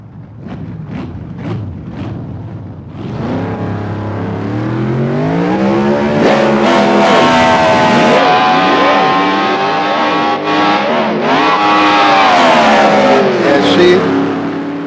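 A drag car launches down the strip with its clutch slipping, engine revving hard and climbing in pitch through a long sustained run after a few short blips; loud and close, with no talk.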